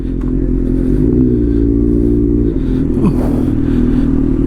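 A motorcycle ridden at night on a hot evening gives a steady, close, throaty engine drone with a brief shift in pitch midway. No voices are heard.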